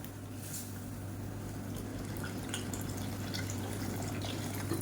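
Water poured into a pot of simmering sambar as it is thinned: a steady, continuous wash of running liquid over a low constant hum, moderately faint and unbroken from start to finish.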